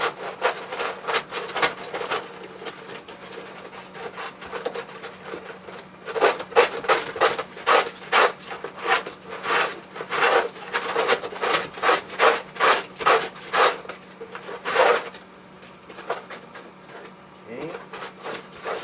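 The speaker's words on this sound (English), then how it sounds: "I'm gonna give it a quick sand on the inside." Hand sanding the inside of a wooden turtle waterfall, rapid rhythmic rasping strokes in quick bursts with a short pause, close and steady.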